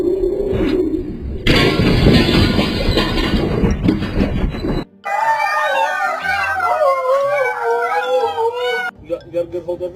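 A dog howls, rising and wavering in long drawn-out cries, loud and close, with a burst of broadband noise before and other sounds between.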